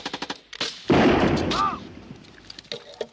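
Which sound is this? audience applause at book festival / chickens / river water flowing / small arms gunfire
small arms gunfire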